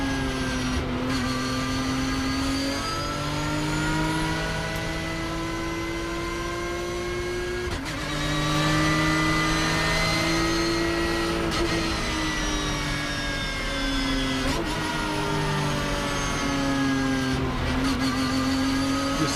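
Race cars in a 2022 round in Argentina accelerate at a race restart, engines rising in pitch through the gears. There are repeated shift drops, a loud continuous whine, and no talk.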